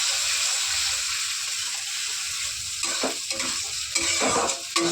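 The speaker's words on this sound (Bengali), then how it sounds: "টমেটো আর কাঁচা লঙ্কা ভেজে নিচ্ছি" Egg with tomato and green chili frying in a pan, a loud continuous sizzle close by, with stirring scrapes and clatter growing more frequent toward the end.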